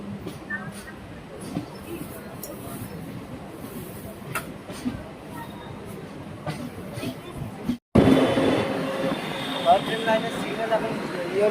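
Siliguri Haldibari DEMU passenger train running, a continuous rumble of the diesel multiple unit with faint rail clatter that grows louder and fuller midway, with people talking throughout.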